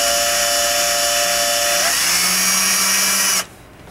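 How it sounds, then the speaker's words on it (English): A power drill with a 1/16 bit bores into a rifle receiver while an ATI folding stock is being installed. A loud, close, high whine changes pitch partway through, then cuts off abruptly near the end. "I'm going to try to only drill it as deep as I need it instead of, you know, you really don't want to drill it all the way through."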